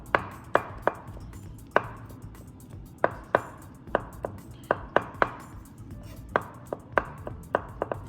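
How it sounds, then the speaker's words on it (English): A knife chops fermented black beans finely on a cutting board, with sharp, crisp taps falling in an uneven rhythm, close and clear over a quiet background. "And then we're going to chop this really fine."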